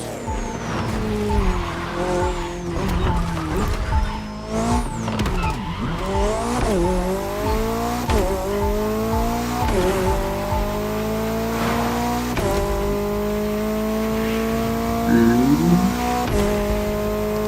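Cars race across varied terrain in The Crew Motorfest, engines revving and rising in pitch through repeated gear shifts, with tires squealing and skidding, steady and close throughout.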